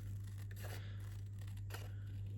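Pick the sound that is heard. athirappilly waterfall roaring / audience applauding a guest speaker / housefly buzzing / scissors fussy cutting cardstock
scissors fussy cutting cardstock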